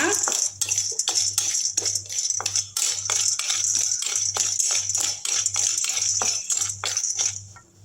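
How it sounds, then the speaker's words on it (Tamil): Lump asafoetida being stirred as it roasts dry in a pan, a rapid series of sharp metallic scrapes and clinks, loud and close, repeating steadily throughout with no talk. "இது அப்படியே கை விடாமல் அப்படியே பரட்டிக்கிட்டே இருங்க"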